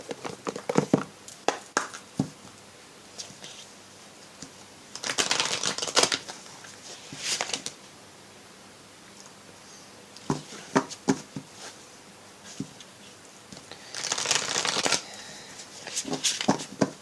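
Oracle cards from the Guérir avec les anges deck being shuffled by hand, close and soft, in several separate riffling bursts with quiet gaps between them.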